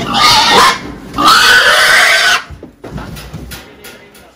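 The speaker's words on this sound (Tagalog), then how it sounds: "Pinanghali na kami sa pagtitimbang ng mga baboy" Pigs being weighed on a farm squeal loudly in two long, shrill bursts close by, then settle into softer grunts and snuffles.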